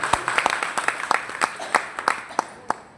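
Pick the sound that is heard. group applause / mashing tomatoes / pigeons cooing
group applause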